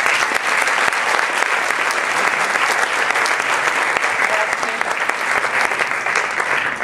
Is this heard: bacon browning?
no